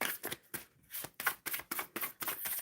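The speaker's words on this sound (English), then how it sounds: "shuffling for Roderick regarding finances." Tarot cards shuffled in a quick series of crisp riffling bursts, about seven close rustling flutters separated by brief pauses, with no talk.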